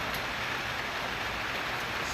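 Rain falls steadily on a Sunday morning, a faint, even hiss of drops on surfaces with no voices present.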